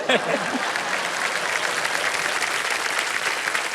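Studio audience applause on the Hindi quiz show Kaun Banega Crorepati, a dense, sustained wash of many hands clapping at once, steady and fairly loud throughout.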